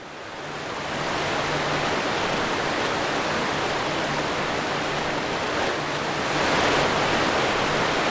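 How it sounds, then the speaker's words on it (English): A loud waterfall in the stealth game Thief 2x: Shadows of the Metal Age roars as a steady, dense rush of falling water, close and unbroken for the whole stretch with no talk over it. "It's a very loud waterfall."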